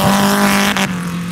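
An off-road vehicle engine drag racing on sand dunes: a loud, steady droning rev held throughout, with a brief rushing burst partway through.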